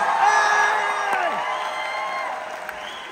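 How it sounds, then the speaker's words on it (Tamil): An audience at a live concert on a USA tour breaks into steady, loud applause with scattered cheers and whoops, a dense clapping roar that holds throughout. "அதுக்கு ஒரு பலத்த கைதட்டல் கொடுங்க"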